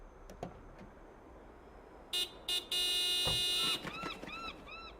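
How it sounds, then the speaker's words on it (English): Car horn honking in the video game Broken Sword 5, sounding in two short blasts followed by a long sustained toot, loud over a quiet ambient background with faint chirping afterward. "Do me a favor and honk the horn."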